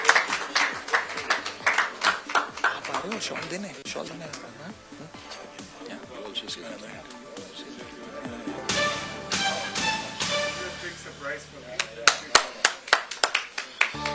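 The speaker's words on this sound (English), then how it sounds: "A round of applause, please." An audience claps at a Davos event, with scattered hand claps that swell into a denser round of applause, close and moderately loud, while people talk over it.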